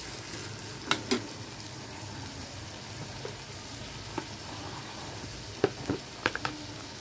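Dried prawn curry ingredients sizzle softly and steadily in a pan, with a few sharp pops and crackles and the scrape of stirring scattered over the frying.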